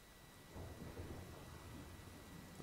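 Thunderstorm in the game Life is Strange: a low rolling rumble of thunder swells and lingers over a continuous hiss of rain, fairly quiet and with no voices.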